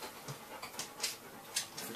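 A dog pants quickly and softly at close range on a hot day, with a few faint whimpery breaths mixed into the rhythm and no talking.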